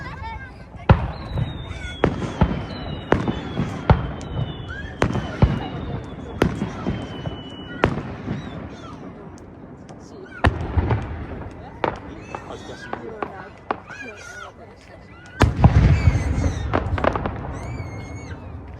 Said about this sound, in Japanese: 今夜はその美しい空に輝く花火を打ち上げます。